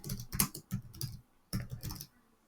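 Keys clack on a computer keyboard in two quick bursts of typing, close and fairly quiet, with a short pause between them and no voices.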